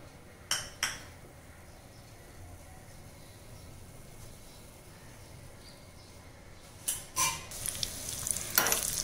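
A faint, steady sizzle of cumin and green chili frying in a little oil, broken by a few sharp clinks and scrapes of a spoon against the pan.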